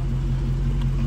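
Dodge Challenger Scat Pack with a 392 V8 doing a burnout, a deep steady engine rumble heard briefly up close with no talk.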